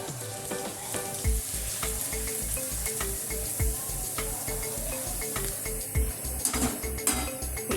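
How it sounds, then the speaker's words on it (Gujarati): Star-shaped snacks for sev mamra fry in hot oil, giving a dense, even sizzle that runs throughout, broken by occasional light clunks of stirring in the pan. "હવે આપણે આ સ્ટાર તળીશું।"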